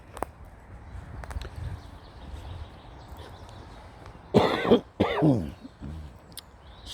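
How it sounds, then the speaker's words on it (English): A single muffled cough into the crook of an elbow during an outdoor walk on the Kinneil Estate: a short, close double burst after several seconds of quiet, soft background ambience. "that was a wee cough into the crook of my elbow."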